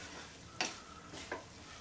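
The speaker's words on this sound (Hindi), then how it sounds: "ये देखिए अच्छे से मिक्स कर लेंगे" A carrot, ginger and green chilli instant pickle is stirred in a pan over low heat: two quick scraping strokes over a faint background sizzle, with no talking.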